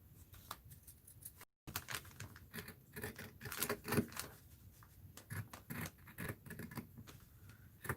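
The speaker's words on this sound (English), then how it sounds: "I'm going to cut the fabric itself along the edge here" Scissors snip through fabric along its edge at a craft table, a close, irregular series of crisp cutting and scratching strokes with a brief pause, no talking.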